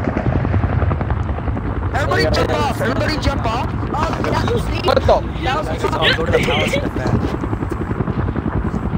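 A helicopter in the Roblox video game drones loudly and steadily with a dense, churning rotor texture throughout, while players talk over it.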